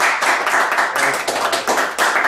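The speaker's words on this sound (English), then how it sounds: "All right, everybody give Nicolay a round of applause" A talk show audience gives a round of applause, brisk close clapping in uneven bursts with short dips, lasting a couple of seconds.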